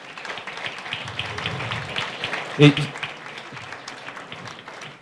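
An audience applauds at a French community gathering honouring local figures, a steady spread of clapping that swells briefly in the middle while someone speaks over it.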